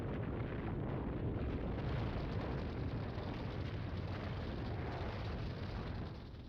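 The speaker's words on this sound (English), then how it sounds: "Firework to celebrate." A celebration firework burst in the video game O.D.T., heard as a sustained, broad rumbling roar that holds steady at moderate level for several seconds before tapering slightly at the end.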